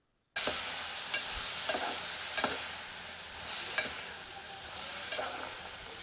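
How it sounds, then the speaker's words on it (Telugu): Flat beans are stirred and sautéed with onions and tomatoes in a pan. A low, continuous sizzle runs throughout, with a few scattered scraping clicks from the spoon. "తర్వాత చిక్కుడుగాయలని వేసుకోవాలి. వేసుకొని బాగా కలబెట్టుకోవాలి."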